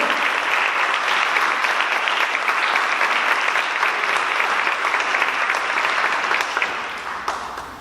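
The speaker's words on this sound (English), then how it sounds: "Can I just have a big round of applause for all of you?" Audience at a student-run city debate gives a big round of applause, loud and dense clapping that stays full for several seconds before tapering off at the end.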